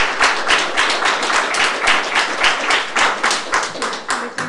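Steady, fairly loud clapping from an audience at a public school board meeting in Scarborough, Maine, with rapid overlapping claps that continue for several seconds and no talk over them.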